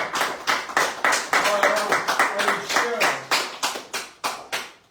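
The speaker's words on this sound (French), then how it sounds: "Sous vos applaudissements, bien sûr" A small studio audience at a French bistro radio show claps to welcome a guest, a dense run of hand claps that swells and fades in short waves, fairly close, with a few voices murmuring underneath.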